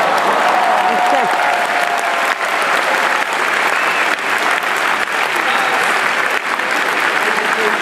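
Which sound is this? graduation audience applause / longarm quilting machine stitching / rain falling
graduation audience applause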